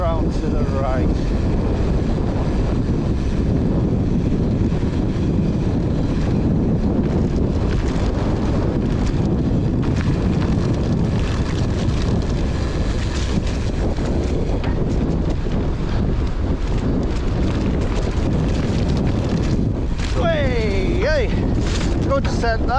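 Heavy wind roars into the microphone on a fast mountain bike descent along walled lanes near Clapham in the Yorkshire Dales, loud and unbroken throughout, with a voice briefly heard under the buffeting.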